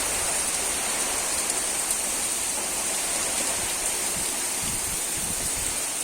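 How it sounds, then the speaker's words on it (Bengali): Heavy rain falling outside in a village, a dense, steady hiss that holds without pause, with no voices. "বাইরে হচ্ছে প্রচুর পরিমাণে বৃষ্টি"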